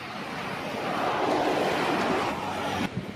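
The Sang river running full of water, a continuous broad rushing roar heard from nearby, swelling slightly in the middle, with some wind buffeting the microphone.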